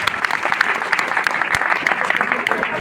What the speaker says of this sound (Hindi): ताली बजा दो जिन्होंने फेंका।